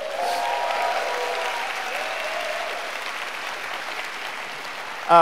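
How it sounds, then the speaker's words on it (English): A crowd claps steadily in the audience at the White House Summit on Asian Americans and Pacific Islanders, a sustained even wash of applause that tapers a little before a sudden louder sound breaks in at the very end. "Please give them a round of applause."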